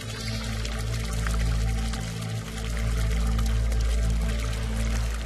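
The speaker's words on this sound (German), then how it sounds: "Es fließt dann einfach in das Becken, ist immer noch sehr säurehaltig, tritt da hinten über, fließt in den Fluss" Acidic wastewater pouring steadily over limestone into a basin, a loud, continuous rushing flow with a low rumble, close by and unbroken throughout, with no voices.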